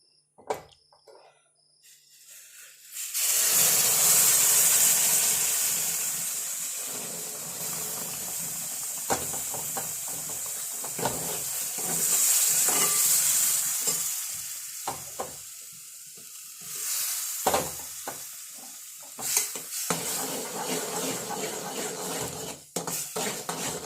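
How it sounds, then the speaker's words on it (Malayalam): Boiled water poured into a hot pan while making upma, a loud, continuous sizzling hiss rising as it hits the pan, with clinks of a utensil against metal and stirring scrapes throughout. "ഇതിലേക്ക് നമുക്ക് തിളപ്പിച്ച് വെച്ച വെള്ളം തിളച്ചിട്ടുണ്ട് ഈ വെള്ളം അങ്ങ് ഒഴിച്ചു കൊടുക്കാം"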